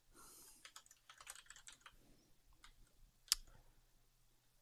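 Quiet, close keystrokes on a computer keyboard come in short bursts as a command is typed, with one sharper key click near the end; no one speaks.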